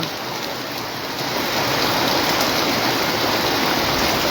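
Heavy rainfall in Comilla makes a dense, unbroken roar that swells noticeably louder after the first second and stays strong and close throughout.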